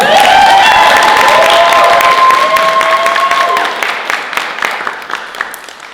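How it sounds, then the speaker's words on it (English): Wedding guests break into a round of applause for the bride who made the decorations and favours, dense clapping with a few cheers and voices mixed in, loud at first and thinning out toward the end. "can we just give her a round of applause?"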